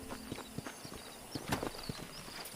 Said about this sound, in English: Grab my horse. A magically appearing horse.